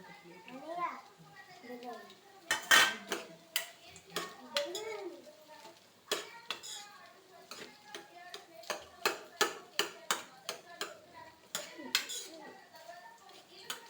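Mango pickle rice being stirred and mixed with a utensil, giving repeated sharp clinks and scrapes against the dish in an irregular rhythm, close and moderately loud, with a voice talking in the background.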